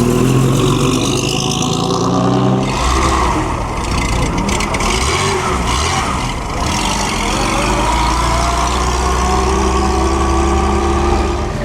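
A vintage six-cylinder Alfa Romeo at the Mille Miglia runs loud and close, a steady throbbing engine drone that rises and settles under continuous outdoor crowd noise.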